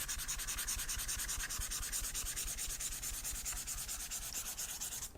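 A stylus scratches across the textured screen of a reMarkable 2 e-ink tablet in fast, even strokes, a close, dry, rhythmic rubbing with no voices.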